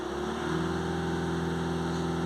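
A Ford Transit Custom van engine, one with oil in the exhaust and a DPF being cleaned, revs steadily with a continuous hum that holds near and loud throughout.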